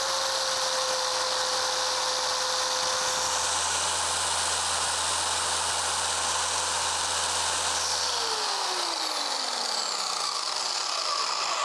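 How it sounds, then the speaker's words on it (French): A Formula Detailing orbital car polisher runs steadily at speed 6 with a loud, even whirring hum and a steady tonal whine, then winds down as the motor slows near the end. No voices are heard. "on va prendre l'orbital de chez Formula Detailing"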